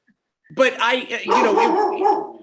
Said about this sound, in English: Oh, my dog Earl wants to talk.